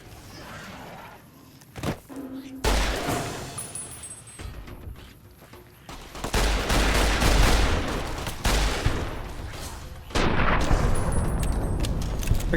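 Rifle fire in a shooter video game rattles in loud, dense bursts separated by short lulls, with sharp impacts and distant battle noise, no talking.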